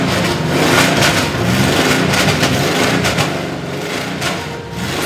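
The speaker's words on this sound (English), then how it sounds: "A fantastic array of Porsches, both old and new, are wheeled into the arena, started and run in front of a live audience." Classic and modern Porsche engines run before a live audience in the arena at the Porsche Museum in Stuttgart, a loud, sustained mechanical roar with pulsing revs and no talk over it.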